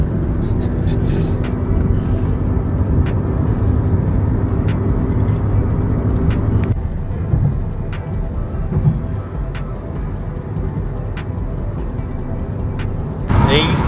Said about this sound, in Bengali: গাড়ি দৌড়াচ্ছেই না, আস্তে আস্তে যাচ্ছি গাড়ি